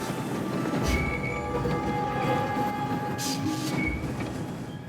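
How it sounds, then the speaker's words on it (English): Brakes on a heavily loaded truck, steaming hot, squeal continuously on a jungle road in Borneo, with shrill tones riding over a heavy, grinding rumble close by. "The brakes seem to be struggling to support the load."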